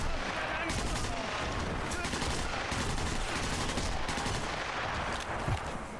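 Gunfire in the video game Sniper Elite V2 Remastered: dense, loud shots and bursts merge into near-continuous firing across the whole stretch, with game sounds layered underneath.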